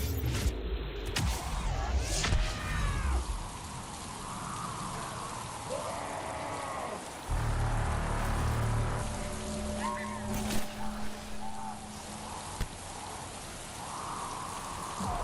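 Steady rain falls in a Mass Effect 3 game level, a continuous hiss under scattered game effects, low rumbles and brief tonal sounds.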